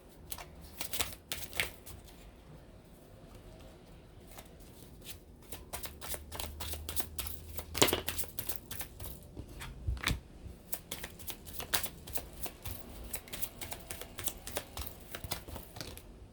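Tarot cards are shuffled and handled close up in repeated soft riffling, flicking bursts with light taps, continuing steadily and quietly with no talking.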